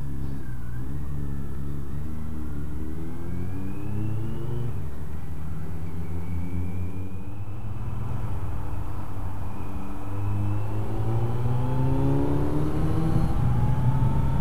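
A motorcycle with its exhaust baffles fitted rumbles steadily on a road ride, the engine note rising and falling through gears in a continuous, close, fairly muffled drone with no talking.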